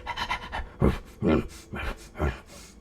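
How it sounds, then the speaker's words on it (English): A dog pants close by in a steady series of breathy puffs, rising and falling in loudness. "There's a dog around here or something."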